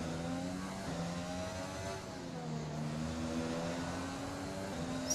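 Race car engine in the F1 Monaco racing video game, a steady high revving drone with rising and falling harmonic whine as it accelerates, loud and continuous throughout.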